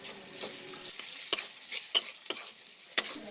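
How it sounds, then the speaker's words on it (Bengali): Ginger garlic paste, turmeric and chili powder sauté with eggplant and tomato, a low sizzle broken by several sharp stirring scrapes and clacks of a utensil against the pan. "সব মশলা ভালোভাবে কষিয়ে নিচ্ছি যেন সুন্দর একটা ঘ্রাণ বের হয়"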